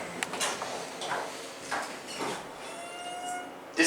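Doors of a Schindler 300A MT hydraulic elevator at a department store slide along their track in a few soft rumbling sweeps, fairly quiet and near, ending with a sharper clunk as they finish moving.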